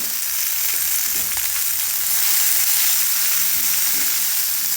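Chopped vegetables with turmeric powder frying in a pan, a dense, continuous hiss of hot oil, close and steady throughout with only faint stirring.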